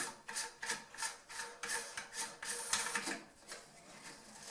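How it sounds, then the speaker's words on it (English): A plastic nut is hand-tightened onto the base of a toilet fill valve in the tank, making a run of rhythmic raspy ratcheting rubs, close and fairly quiet. "Put this on the bottom and tighten."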